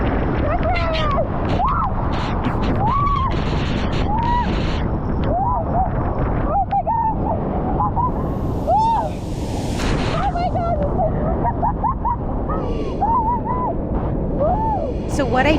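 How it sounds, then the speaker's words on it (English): Wapta Falls, a powerful waterfall in the Canadian Rockies, roars in a dense, unbroken rush close by, with wind buffeting the microphone. A person talks excitedly over the din throughout. "that is one powerful waterfall"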